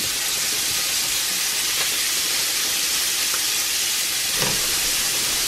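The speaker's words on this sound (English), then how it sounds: "Stirring my potatoes." Potatoes frying in a cast iron pan give a loud, constant sizzle and hiss with a few faint scrapes and knocks from stirring, heard close up. No voices.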